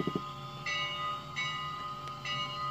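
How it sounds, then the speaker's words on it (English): A standard Pennsylvania Railroad bell on an MTH K4 Pacific model train with a sound system rings repeatedly at a steady pace, clear and close, over a faint continuous hum. "Standard Pensy bell."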